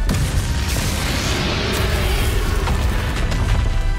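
Confringo fire spell explosion in the Hogwarts Legacy video game: a loud, continuous roaring blast with crackling that fills the whole stretch without letting up.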